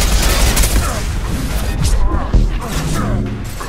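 Dense, continuous gunfire in the video game Mass Effect 2, a steady barrage of shots with sharper bursts and impacts throughout, loud and close, with voices underneath.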